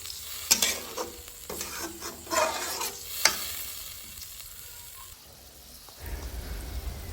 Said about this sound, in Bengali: এই পর্যায়ে আমরা দিয়ে দিব পরিমাণ মতো ঝোল